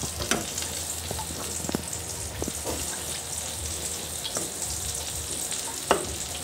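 Eggplant omelette frying in a pan, with a steady close crackling sizzle and scattered sharp pops and spatter throughout, no talking.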